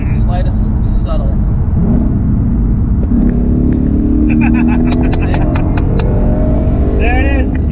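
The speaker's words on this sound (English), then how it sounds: "I just wish you could hear the supercharger whine" Car engine note with a faint rising supercharger whine, subtle and thin, rising over a steady rumble while people talk excitedly nearby.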